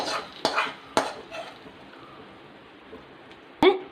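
A spoon stirs mango pulissery curry in a pot: a handful of sharp metallic clinks and scrapes, close and separated by quiet pauses.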